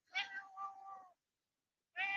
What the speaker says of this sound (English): And now there's a cat here.